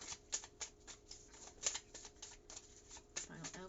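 Tarot cards are shuffled and drawn for a final spread, giving soft papery flicks and snaps in an irregular rhythm, close and quiet, alongside a speaking voice.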